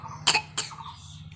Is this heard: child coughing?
yes